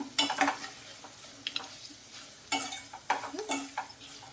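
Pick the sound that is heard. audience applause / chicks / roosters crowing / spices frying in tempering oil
spices frying in tempering oil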